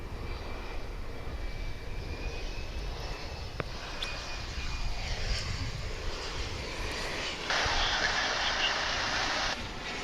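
An airplane engine revving up at DFW International Airport, a steady loud roar with a rising whine, swelling and growing brighter toward the end with no talk over it.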